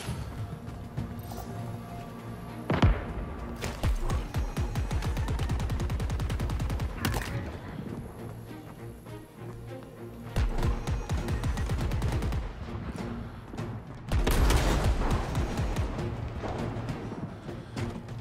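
An unfamiliar gun in the Halo Infinite campaign fires in three long rapid bursts of automatic shots, loud and close, separated by brief pauses with a single sharp crack near the start.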